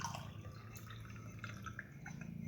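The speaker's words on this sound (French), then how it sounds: "je mets un tout petit peu d'eau" A small amount of water is poured onto potting soil, making faint, close trickling and dripping sounds over a quiet background.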